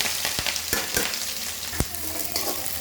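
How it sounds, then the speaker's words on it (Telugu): Onions and green chillies frying in hot oil in a pan, a steady close sizzle broken by several sharp spoon scrapes against the metal, with no voices. "చూడండి నూనె ఇలా వేడయ్యాక ఇది ఆనియన్స్, పచ్చిమిర్చి ఇందులో వేసుకుంటున్నాను."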